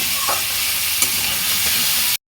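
Vegetables frying in a pan with turmeric, salt and sugar give a steady, close hiss with a few stirring scrapes and one sharp clink near the middle, ending abruptly.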